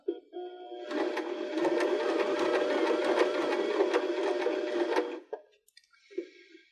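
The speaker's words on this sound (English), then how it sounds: "Now we can use our foot pedal and do about 8 to 10 stitches" A Baby Lock BL9 sewing machine running a short burst of button-attaching stitches, a steady rapid mechanical whir and clatter for about four seconds, close and loud, with brief clicks before and after.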